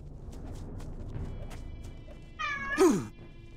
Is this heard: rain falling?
no